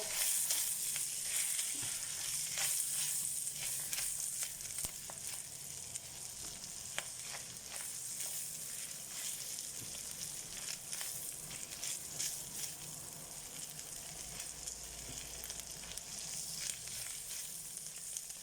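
Bacon frying in a pan, a steady, dense sizzle with crackling pops that holds at an even level throughout, close up, with no talk over it.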